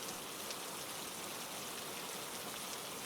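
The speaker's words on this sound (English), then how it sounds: "carried to you on the wings of the rain" Steady, even rain pours throughout, a dense continuous hiss of drops with no breaks, close and moderately loud, with no voices or other sounds over it.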